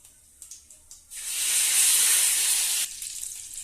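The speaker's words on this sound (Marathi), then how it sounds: "तर आपण याच्यामध्ये कढीपत्ता टाकून घेणार आहोत." Curry leaves drop into hot oil already crackling with mustard seeds and cumin, bursting into a loud, bright sizzle after a few small pops, then settling back to a quieter spitting crackle.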